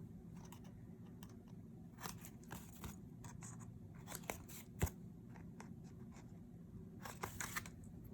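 Paper trimmer cutting cardstock for a handmade card, a series of faint, quick crisp snips and slicing scrapes scattered over a low room hum, close but quiet.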